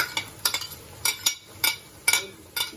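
Eggplant being stirred into crumbled cooked meatballs in a pan, a spoon scraping and clinking against the metal in short, regular strokes about every half second over a faint background hiss, close by, with no talking.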